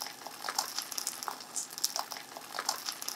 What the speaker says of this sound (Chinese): 然后你就把它稍微再煎个2-3分钟啊